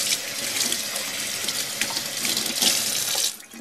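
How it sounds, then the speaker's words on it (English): Tap water runs steadily from a faucet into a kitchen sink as a hand is quickly rinsed mid-cooking, a close, hissing splash that cuts off near the end. "But first, quick rinse of my hand."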